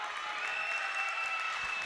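Volleyball fans at a women's college tournament match applauding and cheering, a steady wash of clapping from an indoor crowd.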